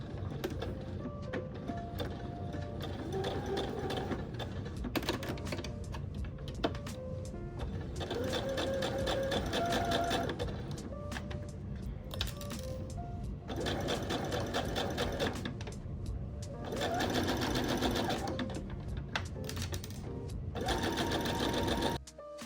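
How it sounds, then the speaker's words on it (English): A sewing machine runs a straight stitch along the sleeve seam of a long-sleeve knit top, whirring steadily and close for the whole stretch in several long runs with brief slowdowns, and no voices. "Using a straight stitch, sew, making sure to backstitch at the beginning and end."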